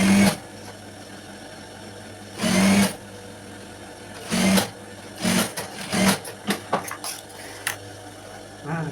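A sewing machine stitching the pocket of a school skirt in short bursts, whirring runs separated by pauses, then a series of quick stop-start stitches, close and alone without talk.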